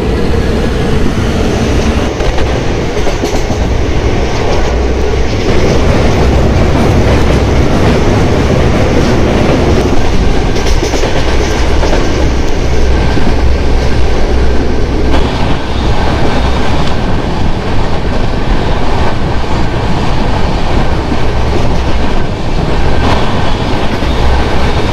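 A crowded passenger train running from Howrah toward Puri gives a loud, continuous rumble from inside the carriage, with rhythmic wheel clatter and rattling throughout and no talk.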